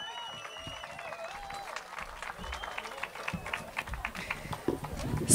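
An audience applauds a performer at the Alino Lake music festival, with steady clapping and crowd noise that swells toward the end over faint tonal sounds from the stage.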